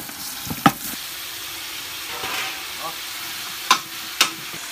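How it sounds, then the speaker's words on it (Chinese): Dried chili peppers stir-fried in a wok with sweet bean chili paste for a spicy lamb spine hotpot, giving a soft steady sizzle with a few sharp scraping clinks of the spatula, fairly close. "干辣椒下来炒一炒。"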